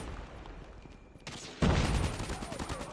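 Gunfire from the video game Call of Duty fires in a sudden loud burst of rapid shots that starts partway through and keeps rattling on after a quieter stretch of game ambience.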